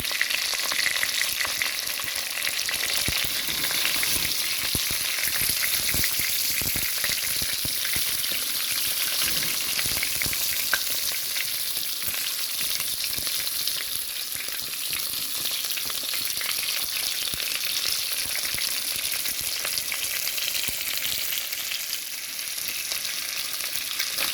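Beef chunks searing in a pot for stew, giving a steady, loud sizzle with crackling fat throughout and no talking.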